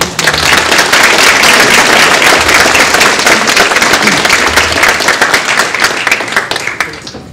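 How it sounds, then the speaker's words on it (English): Audience members at a Hmong cultural ceremony for a judge's retirement applaud loudly and continuously, a thick wash of many hands clapping that holds strong for several seconds and eases off slightly near the end. "Could you please stand so that we can give you an applause for the work that you've done."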